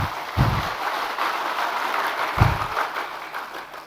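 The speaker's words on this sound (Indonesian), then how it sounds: "Ini PKS banyak juga tepuk tangannya ini." An audience applauds at the PKS national congress (Munas PKS). Sustained, fairly loud clapping fills the hall, with a few louder bursts near the start and middle.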